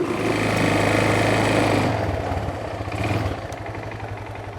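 An old engine fitted with a new carburetor runs with a loud, close, steady rattling chug, then settles to a quieter, lumpier idle.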